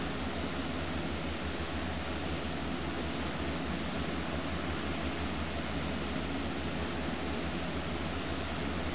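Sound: small propeller plane engine in the video game FSX

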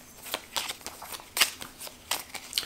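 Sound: shuffling a deck of playing cards

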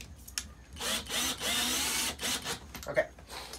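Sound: power drill drilling while installing window air conditioner

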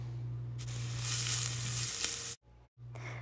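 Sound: onions stirred and frying in olive oil

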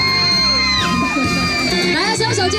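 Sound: concert crowd cheering and shouting

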